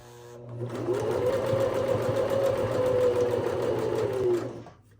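A sewing machine runs in one continuous, close stretch of fast, even stitching as rope is sewn into a bowl, its motor humming steadily for about four seconds before stopping.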